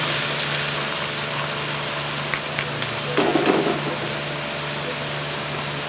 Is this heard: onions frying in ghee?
yes